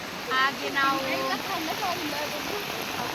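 Rain falling steadily outdoors as a broad, continuous hiss under a person talking briefly near the start, the downpour carrying on alone afterward.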